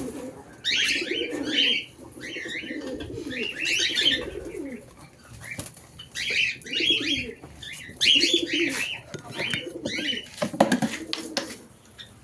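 Cockatiels calling in repeated bursts of cooing and chirping, nearby and moderately loud, with light rustling and scratching between the calls.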